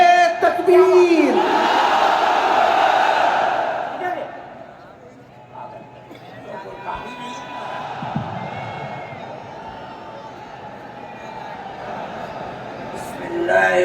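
A large crowd at a religious gathering roars a takbir chant in unison, loud and massed at first, then fading into a lower murmur of crowd noise in a big space.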